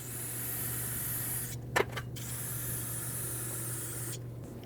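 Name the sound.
spraying brake parts cleaner on a Mercedes GLC300 rear brake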